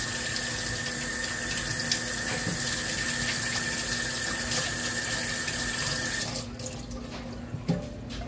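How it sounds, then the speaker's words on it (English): Water runs steadily from a kitchen tap during hand washing amid meatloaf preparation, a continuous close rushing hiss that cuts off near the end, leaving quieter room sound with a small clunk. "I'm gonna have to wash my hands"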